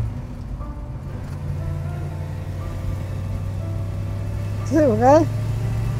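A 1967 Ford Mustang Fastback engine runs steadily nearby with a deep, constant low rumble, and a voice speaks briefly near the end.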